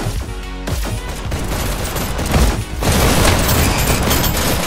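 Rapid machine gun fire in a video game match, loud bursts of repeated shots and booms that thicken into a steady barrage in the second half.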